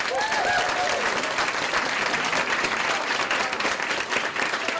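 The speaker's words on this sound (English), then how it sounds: "Let's give them some claps." Audience applauding students and helpers at a basement project presentation, steady dense clapping throughout, with a brief voice at the start.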